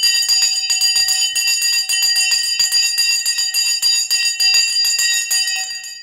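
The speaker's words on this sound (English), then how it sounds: "Sensei bell has been rung" A bright metal bell rung rapidly and continuously, a dense run of loud ringing strikes with sustained high overtones and no voices.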